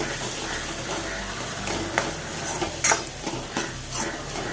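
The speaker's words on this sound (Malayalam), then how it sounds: "ഇനി വെളുത്തുള്ളി ഇഞ്ചി പേസ്റ്റ് ആയത് കാൽ ടീസ്പൂൺ ചേർത്ത് കൊടുത്ത് കറിക്ക് നല്ല സ്വാദ് കൂട്ടാൻ വേണ്ടി" Garlic-ginger paste sizzles in a pan for a chickpea curry, and quick scraping strokes of a spoon stir it in short, busy bursts, close and fairly loud.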